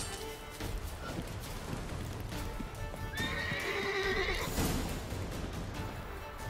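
A horse in the video game Witcher 3 gallops with rapid clip-clopping hooves and lets out a loud whinnying neigh midway, up close, with game music and ambience underneath.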